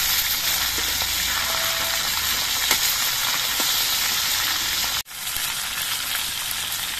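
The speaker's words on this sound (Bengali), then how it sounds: "দু পিঠে ভালো করে মাছের মাথাগুলো ভেজে নিতে হবে।" Fish heads fry in hot oil for a Bengali muri ghonto, giving a loud, steady, close sizzle with faint crackles throughout and one brief drop in the hiss partway through.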